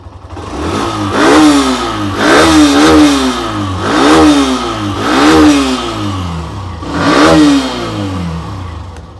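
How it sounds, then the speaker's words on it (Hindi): A Bajaj Pulsar NS 125 motorcycle exhaust revs repeatedly, five or so rising throttle blips over a rumbling idle, loud and close. "एग्जॉस्ट नोट सुनिए आइडियल कंडीशन पर।"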